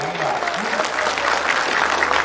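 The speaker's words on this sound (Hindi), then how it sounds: "मैं चाहता हूं इनके सम्मान में एक बार जोरदार तालियां बजा दीजिए" Loud, dense applause from a large audience honouring poet Dinesh Bawra at a kavi sammelan during the Gorakhpur Mahotsav 2021, steady throughout with a faint voice underneath.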